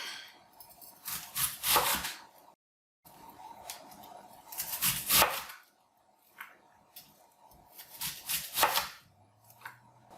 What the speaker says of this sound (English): Now we're ready to slowly shave your diced onion off the side.